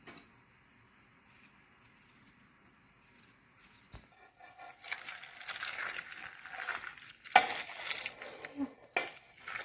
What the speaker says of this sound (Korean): 자, 팔팔 끓는 소금물을 붓습니다.